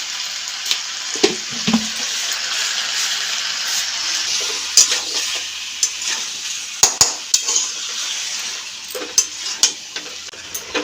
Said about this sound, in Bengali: এবারে ভালো করে এই মশলাটা কষাতে হবে